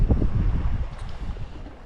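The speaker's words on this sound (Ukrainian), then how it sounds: "дуже сильний вітер почався" Gusty wind on a fishing shore rumbles hard against the microphone, loud at first and easing slightly, with nothing else clearly audible.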